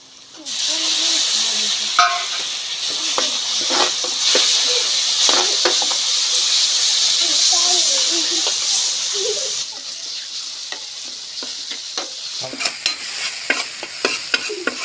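Spice masala fries in hot oil for dhaba-style Amritsari paneer bhurji, a steady close sizzle with repeated scraping stirs of a spoon against the pan, easing slightly toward the end with sharper clinks.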